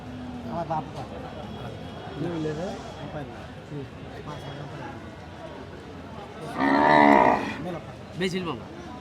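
Cattle, including bulls, at a busy rural cattle market in Chuadanga moo several times, one loud close low bellow standing out, under ongoing bargaining talk between buyers and sellers.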